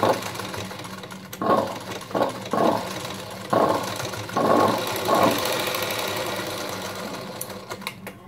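Sewing machine running double stitching on a blouse sleeve, several short whirring bursts of rapid mechanical stitching separated by brief pauses, close and loud with no talk.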